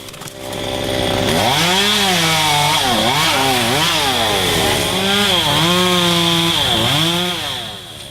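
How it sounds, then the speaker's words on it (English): A chainsaw trims oak tree branches at a nature preserve, its engine revving up and down in repeated rising and falling whines, loud and close, running steadily for most of the stretch without any talk. "Brown's Tree Service cleared away the oak branches"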